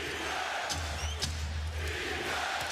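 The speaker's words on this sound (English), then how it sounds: "the crowd back in the game as the Celtics back on top" Arena crowd at an NBA Finals game between the Celtics and Lakers, a broad roar of cheering with some sharp shouts rising over a low rumble.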